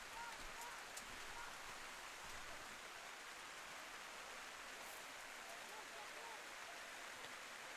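Heavy rain pours down on an outdoor boys' high school soccer game, a dense, even hiss of downpour that holds steady throughout without a break.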